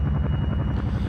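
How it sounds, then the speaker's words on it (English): Helicopter in the Arma 3 video game during a large multiplayer battle over a mountain, its steady thudding rotor drone loud and continuous throughout, with no talk. "just jumped out of a helicopter"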